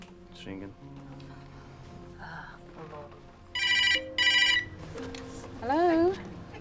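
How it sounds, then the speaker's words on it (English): A telephone rings in two loud, evenly spaced electronic bursts, with a short chirping tone following and quiet indoor sounds and a voice heard faintly around them. "It's ringing."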